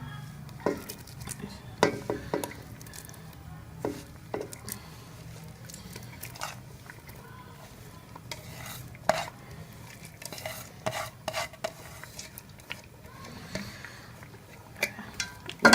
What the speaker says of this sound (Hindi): अब मैं इसके अंदर मैं गाजरें भी मिक्स कर लूँगी।